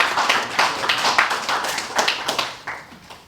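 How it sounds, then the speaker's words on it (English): A small audience at a Cleburne athletics community talk claps in uneven bursts, individual hand claps distinct and close, tapering off toward the end. "Y'all keep clapping for me if you want to."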